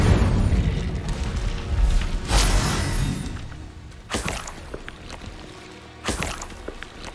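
Spell impacts from casting Incendio in Hogwarts Legacy, a fiery whoosh with sharp cracking bursts around 2, 4 and 6 seconds over a steady game rumble, no talking.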